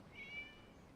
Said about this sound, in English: Meow! It's a cat! It was just a cat.